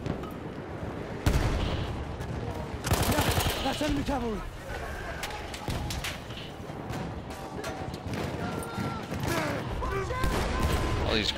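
Battlefield 1 multiplayer combat on Xbox One, with bursts of gunfire and grenade explosions cracking and booming at varying distances amid chaotic battle noise and a player talking.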